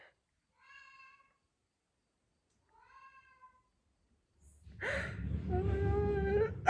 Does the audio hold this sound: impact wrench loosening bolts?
no